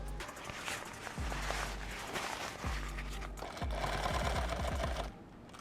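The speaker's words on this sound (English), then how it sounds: "I'm going to sew this right up to the top corner, right there." A sewing machine stitches a kit bag seam in steady bursts, its motor whirring with a rapid needle patter, pausing briefly between runs before stopping near the end.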